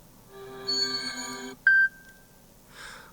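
Text message notification tone previews on a Samsung Galaxy S23: a sustained melodic chime, then a sharp short beep with a ringing tail, then a softer burst after a gap, with no talking.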